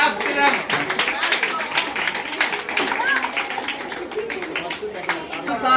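Audience clapping for a school science quiz team as second place is announced, a dense patter of many hands sustained steadily for several seconds with voices mixed in.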